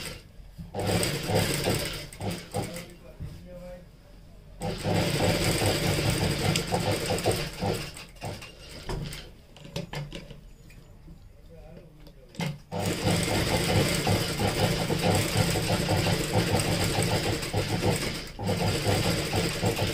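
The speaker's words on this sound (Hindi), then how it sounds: "इसके बाजू में हमें सिलाई लगानी पड़ेगी यहाँ पे, ताकि इसका माप परफेक्ट आ जाए।" Electric sewing machine stitching fabric for a blouse back neck design, running in long steady bursts with brief pauses between runs, close and loud throughout.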